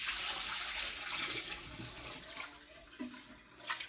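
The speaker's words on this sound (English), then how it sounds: "We're working on rinsing rice." Rice being rinsed in water at home while cooking dinner, a steady broadband wash of running and swishing water with a few small splashes and clinks toward the end, fairly close.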